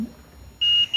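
A multimeter continuity buzzer beeps abruptly while testing a fuse on a laptop mainboard, a steady high tone held briefly, then cut and resumed, over a quiet background.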